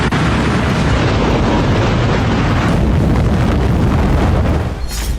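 An atomic bomb test explosion in the Nevada desert near Area 51: a loud, sustained, rumbling roar that fills the whole clip and fades only slightly near the end.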